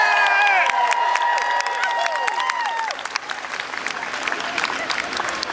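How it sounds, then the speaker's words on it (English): A crowd at an outdoor political rally in Seattle claps and cheers loudly, a dense burst of applause with whoops and shouts that slowly thins over a few seconds. "Give yourselves a round of applause for supporting Sanity."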